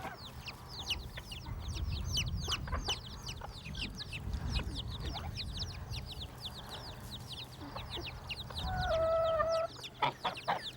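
On an old-style farm, a bantam hen clucks low among chicks peeping in a high, busy chorus, with guinea fowl nearby and a sharper call near the end.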